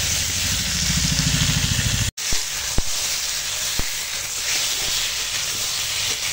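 Vegetables with ginger-garlic paste sauté in a pan over a wood fire, a loud, steady hiss that breaks off briefly midway and then resumes with a couple of sharp clicks. No talk is heard.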